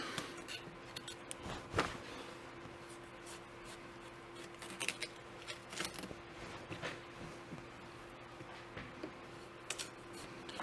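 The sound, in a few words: knife carving a watermelon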